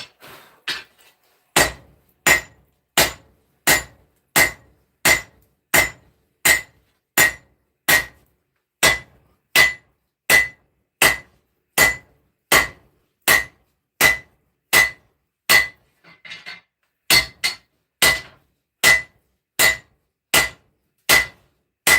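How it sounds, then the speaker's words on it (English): A hammer forges hot steel for a sword blade, ringing out in a long, steady run of loud, sharp metallic strikes at an even rhythm, with one brief pause partway through before the blows resume. "Let's get back to forging."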